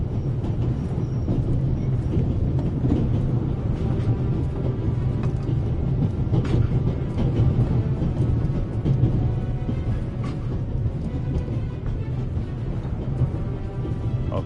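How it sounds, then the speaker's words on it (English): A train rolls along the rails in a video game, giving a steady, dense rumble and clatter that stays fairly even throughout, with no one speaking. "how else can I stop the train?"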